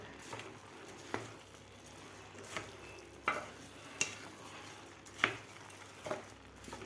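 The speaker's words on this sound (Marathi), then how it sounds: "डाळ आणि तांदूळ व्यवस्थित परतून घ्यायचे आहेत." Dal and rice are stirred through vegetables in a pan for khichdi, soft background sizzling broken by regular scraping strokes and spoon clinks roughly every second, quiet and close, with no one talking.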